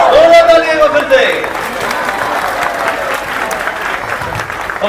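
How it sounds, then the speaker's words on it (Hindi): Loud audience applause fills the hall during a Shri Krishna Janmashtami drama at ISKCON Najafgarh, a dense, steady clapping that stays strong throughout with voices mixed in. "जोरदार तालियां फिर से।"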